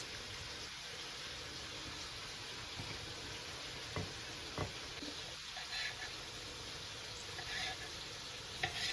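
Mushrooms fry in a pan for Korean-style mushrooms, giving a faint, steady sizzle and hiss with a few soft stirring clicks, heard alone.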